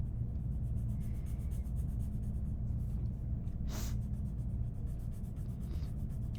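A pencil scratches across paper in short, soft, repeated strokes while shading a realistic eye drawing, close and steady, with a brief sniff partway through.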